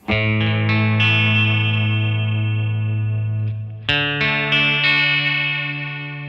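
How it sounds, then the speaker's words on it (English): A sustained electric guitar chord through a Flamma FS03 pedal's swirling, stepped phaser effect, then a second strum around four seconds in, loud and alone. "it has a little bit of a step phaser effect on it"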